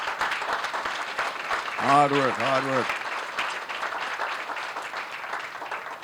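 Applause for board members at a banquet and awards ceremony breaks out in dense crackling claps, with someone speaking over it and a brief tonal vocal swell in the middle.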